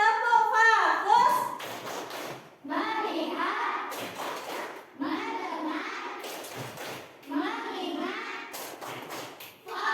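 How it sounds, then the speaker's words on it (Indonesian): Young pupils in a classroom play a rhythmic 'tepuk fokus' ice-breaking clapping game. Short bursts of clapping alternate with the children's loud chanted words in a steady call-and-clap pattern. "Yuk, tepuk fokus."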